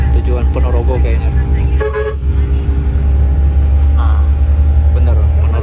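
At a Surabaya bus terminal, a Jaya bus bound for Ponorogo rumbles nearby with a deep, loud engine drone and sounds a short horn toot, while people talk over the busy roadway noise.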